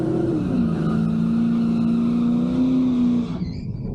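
A highly tuned Cadillac CTS-V and a Tesla launch side by side in a drag race, a loud steady engine roar holding strong for about three seconds before cutting off abruptly.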